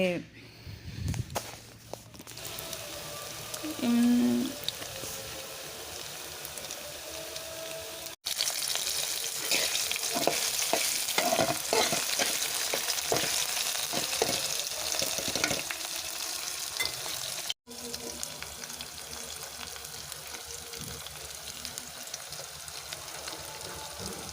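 Mixed leafy greens cooking in a pan, a low steady frying hiss with stirring scrapes and a few knocks, broken by short gaps, a voice speaking at times.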